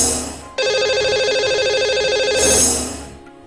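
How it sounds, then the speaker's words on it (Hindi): Phone call ringing on a live studio show, a sustained electronic ringtone with steady repeated tones that cuts in sharply and plays loud and close for about two seconds, then fades out. "तो चलिए अब इन्हें लगाएंगे हम कॉल और करेंगे इनसे बात।"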